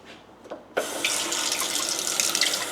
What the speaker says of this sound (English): and then we'll throw in some water